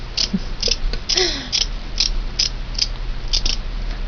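Scissors cut through burlap in a regular series of crisp snips, roughly two per second, close and moderately loud over a low steady hum, with no talking.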